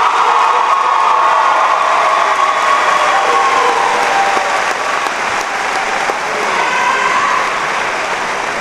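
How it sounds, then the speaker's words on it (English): Sustained applause from a graduation ceremony crowd honoring the Dunkirk High School class of 2018, a dense, steady wash of clapping with light cheering that holds at full loudness throughout. "One more round of applause for the class of 2018."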